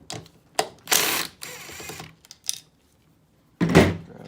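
Ratchet wrench driving a 12 mm deep socket on a Honda CR250 motorcycle engine during a rebuild, heard as a few bursts of quick clicking with short pauses and one final burst after a gap, close and fairly quiet.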